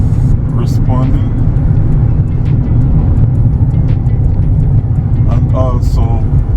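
An electric Mini on a test drive after a repair gives off a continuous low road rumble and tyre noise, steady and close. Someone talks over it throughout.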